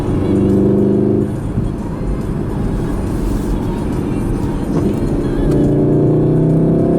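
A 2016 Volkswagen Golf R with a DSG gearbox and 4Motion drive climbs uphill, its engine a steady loud drone heard from inside the car, with tone shifts as it pulls through the gears.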